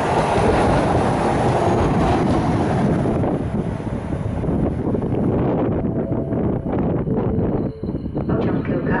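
Passenger train running through Skierniewice station, a loud, sustained rumble with rail clatter and wind buffeting the microphone, fading slightly toward the end.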